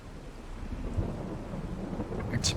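Rain falls during a thunderstorm on a farm, a soft continuous patter with a low rumbling undertone and no voices.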